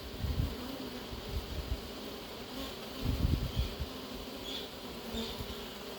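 Honey bees buzz in a steady, soft drone around a hive as a package of bees is being installed, the swarm's hum swelling briefly at moments with no talking over it.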